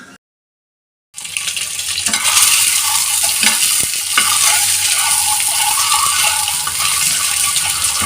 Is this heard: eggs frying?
yes